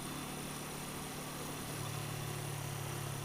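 A 1980 Yamaha XS400 Special II motorcycle with a 391 cc engine running steadily at idle, a close, even engine drone with a slight rise in the second half.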